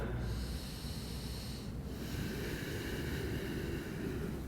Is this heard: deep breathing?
yes